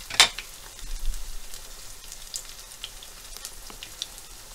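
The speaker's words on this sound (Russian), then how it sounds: "вот таким образом мы жарим наши блинчики" A steady, soft sizzle of chicken fillet pancake batter frying in a hot pan, with light crackles and pops scattered throughout and one sharper click near the start.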